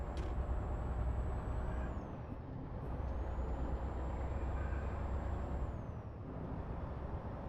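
Bus air brakes hiss in Euro Truck Simulator 2, a steady broadband whoosh over continuous low engine and road rumble, with a high whine gliding down and back up.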